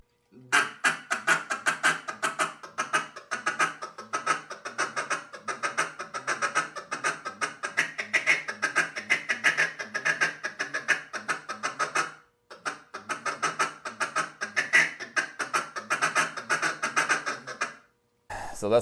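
A duck call is blown in a steady run of quick, clipped cluck notes, a slowed-down version of the feed call, repeated rapidly and close up for most of the stretch, with one short pause partway through.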